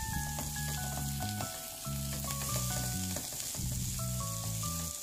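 Ham and chorizo sizzle steadily in a hot frying pan, a loud, close, continuous crackle with faint stirring through it, alone with no voices.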